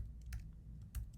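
A few quick keystrokes tapped on a computer keyboard, soft and close, in two small clusters with a pause between, over a low steady hum.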